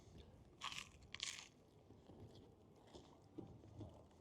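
Battered haddock fish and chips from a Whitby chip shop get bitten into by hand: two sharp, close crunches, then softer munching and chewing of the crisp batter, with no talking.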